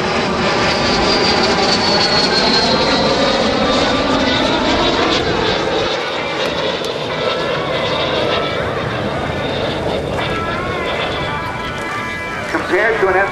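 An L-39 Albatross jet roars past on a photo pass at an air show, its loud whine shifting downward in pitch as it sweeps by, with an announcer talking over it.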